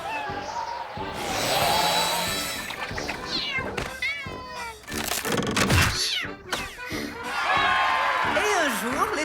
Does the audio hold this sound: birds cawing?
no